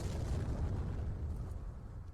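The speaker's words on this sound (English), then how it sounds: "what the hell did I blow up in here? I blew up a toilet" A toilet explodes in the video game Warhammer 40K: Chaos Gate - Daemonhunters, leaving a deep, rumbling blast tail that starts loud and slowly fades over about two seconds, with no voices.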